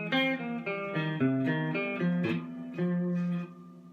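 Electric guitar picks out a riff as a clean, bright run of single notes in a steady rhythm, each note ringing briefly, alone and close-up.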